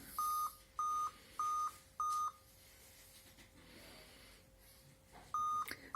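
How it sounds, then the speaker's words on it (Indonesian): A computer with its power cable and battery unplugged gives repeated electronic beeps, four evenly spaced tones followed by a quiet pause and then two more, clear and near. "bunyi tutut itu adalah dari kondisi kabel koneksi power switch off yang saya cabut dan juga baterai saya cabut"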